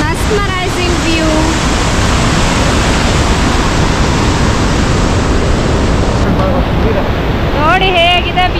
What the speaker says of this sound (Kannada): ಎಷ್ಟು ಫೋರ್ಸ್ ಆಗಿ ಧುಮುಕ್ತಾ ಇದೆ ನೋಡಿ ನೀರಿಲೆಲ್ಲ